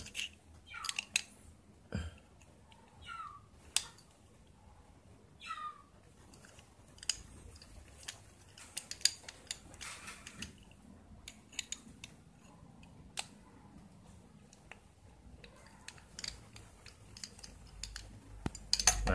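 A screwdriver loosens a part on a sewing machine, making sparse, close metallic clicks, scrapes and small ticks at an irregular rhythm, with quiet gaps between the sounds and no talk.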